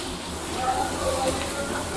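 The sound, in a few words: chili, curry leaves, capsicum and onion sizzling in oil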